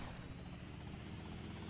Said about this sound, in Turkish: İndir helikopteri.